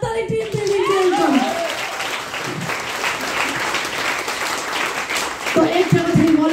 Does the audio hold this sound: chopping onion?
no